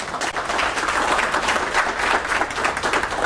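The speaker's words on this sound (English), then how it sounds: "Give her a big round of applause." Audience applause at an acting and body-language workshop: steady, dense clapping from a sizable room, loud and continuous for the whole stretch with no speech over it.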